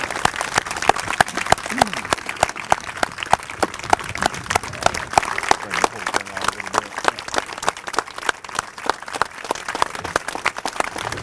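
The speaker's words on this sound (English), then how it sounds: "Let's give Matt a big, rousing Memorial Day applause." Audience applause at an outdoor Memorial Day ceremony, a steady wash of many hands clapping for about eleven seconds with a sharp, dense, even texture at moderate distance.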